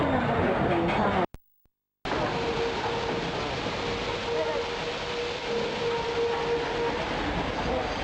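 Continuous rumble and rattle of a scenic railway train in motion near Port Douglas, Australia, heard from close by between two carriages, with a faint tonal whine; it cuts out briefly near the start.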